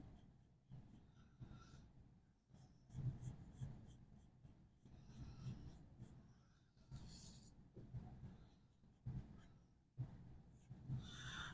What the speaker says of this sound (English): I like to just kind of let my pencil go very lightly over it.